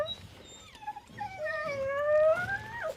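A working heading dog in a kennel lets out a rising, wavering howl-whine that builds into a long drawn wail over about three seconds, moderately close amid quiet farm surroundings.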